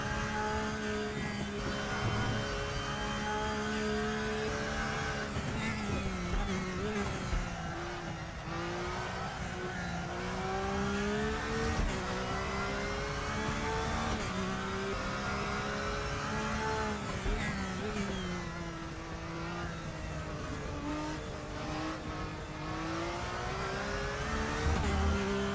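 A GT3 race car's engine roars steadily at full throttle in a racing video game, with rising and falling pitch as it shifts gears and rides through corners, loud and continuous with no talking.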